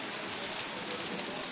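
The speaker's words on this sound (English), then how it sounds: "That's good rain." Heavy rain falling outside a garage, a dense, steady hiss of drops pattering on surfaces, fairly close and continuous.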